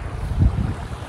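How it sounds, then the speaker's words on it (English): Steady wind buffets the microphone outdoors at Slippery Stones, Derbyshire, with low rumbling gusts, swelling briefly near the middle; no voices. "Sorry about the wind, it's only a little bit windy."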